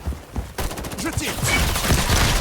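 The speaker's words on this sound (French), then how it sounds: "Je tire." Rapid bursts of gunfire during a 5v5 bomb-mode round of the video game Highguard, loud and dense with overlapping impacts and no talk.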